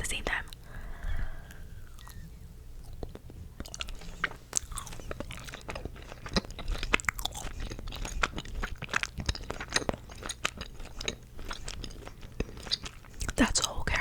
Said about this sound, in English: Let's bite it at the same time.